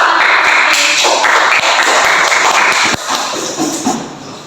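A school class claps for a classmate named Suci: a dense, loud burst of many hands clapping at close range, which drops off abruptly and fades near the end.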